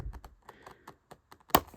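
Fingernails pick and tap at a toy box containing a Furby Furblet, giving a run of light, close clicks and scratchy taps spaced irregularly, with one sharper snap near the end.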